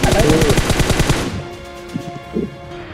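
Automatic weapon fire in the mobile battle royale game BGMI (PUBG Mobile), a loud, rapid burst of shots that stops and gives way to a few quieter, scattered game sounds.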